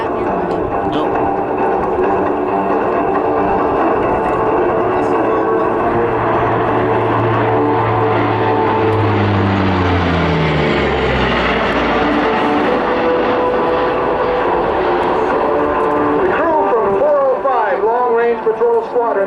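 A Lockheed CP-140 Aurora maritime patrol turboprop flies a display at the 2012 Hamilton airshow, its loud, steady propeller drone shifting pitch downward as it passes close by, with an announcer talking over it.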